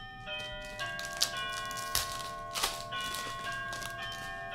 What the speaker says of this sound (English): that's our back doorbell